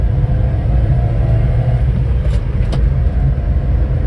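A Honda Acty mini truck climbs a hill, its engine giving a loud, close, steady low rumble with road and wind noise inside the cab, continuous and without talking.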